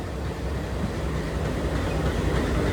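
A shunting locomotive moves through the maintenance centre at Pune Junction, a steady low rail rumble with faint clickety-clack holding at an even level, with no voices.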